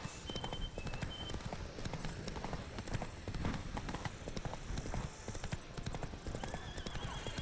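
Rapid hoofbeats clip-clop steadily throughout, with a horse whinnying over the galloping rhythm, loud and close.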